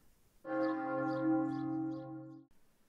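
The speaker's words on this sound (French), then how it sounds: "Ponctué par le son d'une cloche qui prend son envol." A single deep church bell strikes and rings out with a rich, sustained hum, fading after about two seconds.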